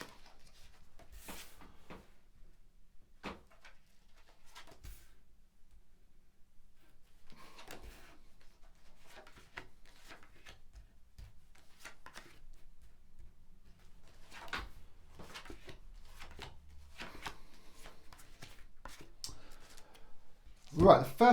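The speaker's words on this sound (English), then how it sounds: "I'm just going to lay down your cards on the table." Tarot cards laid down one by one on a table, soft scattered taps and slides spread irregularly across the stretch, faint and close, with a quiet voice talking in between.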